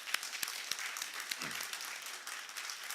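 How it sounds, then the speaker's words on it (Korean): A church congregation at an Easter service applauds in praise, with soft, distant clapping forming a faint, even wash of sound. "우리 하나님께 영광의 박수 돌리기 원합니다."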